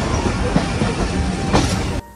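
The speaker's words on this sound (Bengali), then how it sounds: "পাঁচুরিয়া রেলওয়ে স্টেশনে নির্দিষ্ট সময় ট্রেন থামার পরে আবার ট্রেন চলতে শুরু করলো রাজবাড়ির উদ্দেশ্যে" A passenger train pulls out of Panchuria railway station in Bangladesh, bound for Rajbari: a loud, close, continuous rumble with rhythmic wheel clacks and screeches that stops abruptly near the end.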